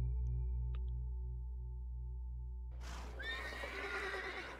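A horse in The Thaumaturge video game neighs with a clear, whinnying call over a quiet musical drone, loud and close, lasting a couple of seconds.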